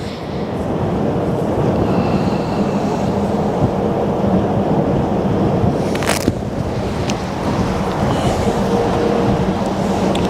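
Wind buffets the microphone on the Westerschelde shore in the Netherlands, a loud, steady low roar that stays constant throughout, with a brief sharp burst midway and no talking.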